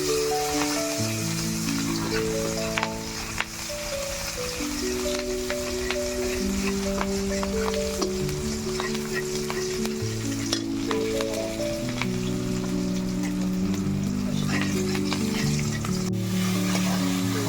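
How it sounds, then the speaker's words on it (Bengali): Raw onions sizzle in a pan, browning for a homestyle spicy Bhela fish curry, a loud, steady hiss that runs unbroken for the whole stretch without talk. "পেঁয়াজটা একটু লাল লাল করে ভাজা ভাজা হবে"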